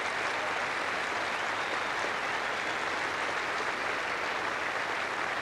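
A large tennis crowd at the Wimbledon trophy presentation applauds in a dense, steady wash of clapping that holds at an even level throughout.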